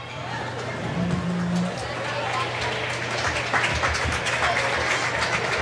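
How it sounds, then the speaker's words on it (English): Crowd applause at a girls' high school basketball game for the Lady Eagles in a gym, a sustained round of clapping from the stands under an announcer's running talk. "Gets a nice round of applause here from the Eagle faithful."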